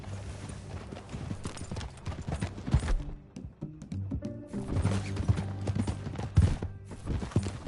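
Steady hoof clip-clops from a horse walking along in Red Dead Redemption 2, rhythmic and fairly close, with a brief quieter pause midway before the clopping resumes.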